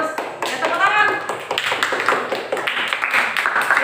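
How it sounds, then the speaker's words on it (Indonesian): A class claps hands together indoors, a short ragged burst of many hands that runs steadily from start to end, mixed with voices talking over it. "Ya, tepuk tangan."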